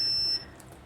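A water level controller's buzzer sounds as the water pump motor switches on. It gives one short, shrill electronic beep that cuts off abruptly, followed by quiet.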